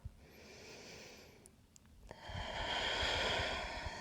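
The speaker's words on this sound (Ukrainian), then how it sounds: "Глибокий вдих і видих через рот" Deep breath in and out through the mouth during morning yoga, a soft airy inhale followed by a louder, longer exhale, close and fairly quiet.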